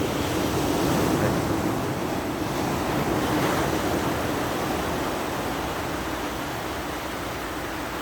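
Sea waves washing onto Mbatal beach at Mbao, a continuous loud roar of surf with wind noise across the microphone, no voices.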